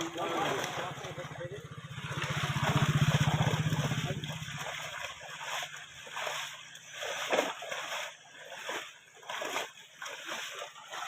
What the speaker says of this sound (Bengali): জল মারো বাইরে থেকে জল মারো